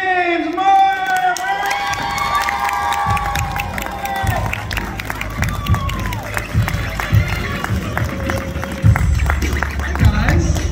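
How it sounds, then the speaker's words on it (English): A large crowd at Tampa Bay Comic Con cheers and applauds loudly and continuously, with scattered shouts and whistles rising over a steady roar of clapping. "Please give me a huge round of applause for James Murr!"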